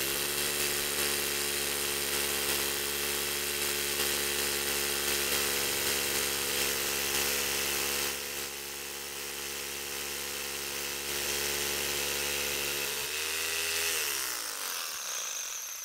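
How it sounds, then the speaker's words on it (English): Power drill boring through a component into concrete, a loud continuous whirring grind that winds down near the end, no talk. "I drill through the component I'm installing."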